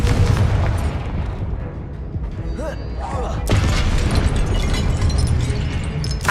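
The Confringo explosive spell goes off in Hogwarts Legacy, a loud booming burst that ends in a sharp blast partway through, over dense rumbling game noise.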